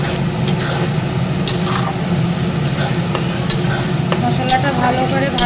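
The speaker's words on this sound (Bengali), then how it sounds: "এখন মশলাটা দিয়ে দিই" Spice paste with soft onions sizzling in hot oil in a pan while being stirred for a mutton curry, a steady loud frying hiss with repeated scraping strokes of the spoon close by.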